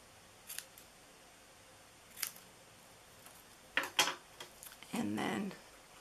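Scissors snip a slanted edge into paper for a Christmas treat box, several crisp close cuts in brief bursts with quiet gaps between, ending in a longer rustling slice.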